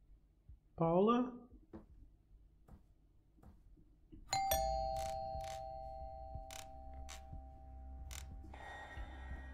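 A house doorbell rings with a sustained chime tone after a brief voice and quiet creaks, followed by a series of rapid repeated ringing strikes and then a rising hum.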